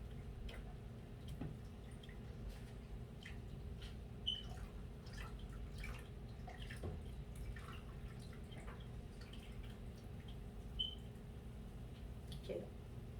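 Faint, wet squishing and soft liquid dripping as homemade hot and spicy ketchup with stewed tomato liquid is stirred in a pot, scattered small splashes and clicks over a low steady background.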